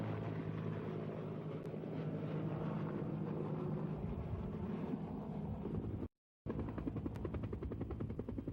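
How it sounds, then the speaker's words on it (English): A U.S. Air Force C-130 cargo plane in flight, a loud constant propeller drone with a brief dropout near the end, no speech. "Prime Minister Siaga got his bird's-eye view aboard a U.S. Air Force C-130 cargo plane."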